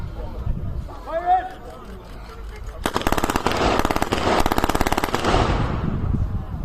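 A Thompson submachine gun fires long rapid bursts at an outdoor WWII re-enactment in Blaenavon. The loud, dense rattle cuts in sharply after a murmur of crowd voices and fades at the end.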